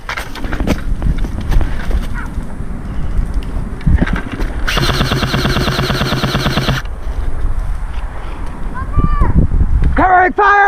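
Airsoft guns in an outdoor war game, a sustained burst of rapid, loud, evenly spaced shots for about two seconds, with people shouting and talking around it and wind noise throughout.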